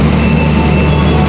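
Fajar Utama passenger train on the Yogyakarta–Solo run, heard as a steady, loud rumble of wheels on rails with a continuous low drone and no clear clicks.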